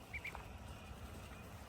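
Ducks give two short, faint quacks close together near the start, then a quieter call later, over low background rumble outdoors near a house.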